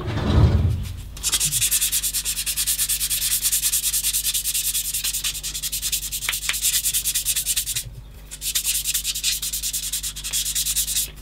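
A soft sanding stick rubs over a 1/16 scale plastic model of an M10 IIC Achilles tank destroyer, giving a close, steady scratchy rasp of rapid back-and-forth strokes with one short pause.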